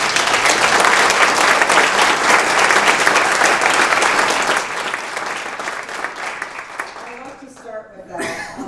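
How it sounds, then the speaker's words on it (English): A room full of people applauds Southern Utah legislators at a chamber of commerce event, loud dense clapping that fades after about five seconds, with a voice beginning to speak near the end. "let's just give them all a great round of applause."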